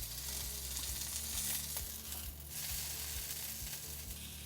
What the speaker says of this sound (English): I'm just gonna rest the tuna on its side, just like this. So you just cook off the sides of the tuna